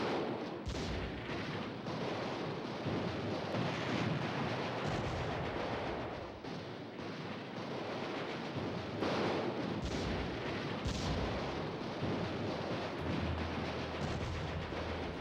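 Artillery firing in the strategy video game Allied General, a continuous dense barrage of muffled booms and rumbling blasts, fairly faint and distant, lasting throughout with no talk.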